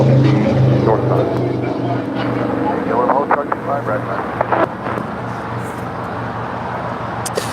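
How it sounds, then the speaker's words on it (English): A 12-year-old Boeing 777 freighter departs for Guangzhou at LAX, its engines a loud, steady low rumble with a broadband roar. Voices talk over it throughout. "5230 departing to Guangzhou. It's a 12-year-old Boeing 777 freighter."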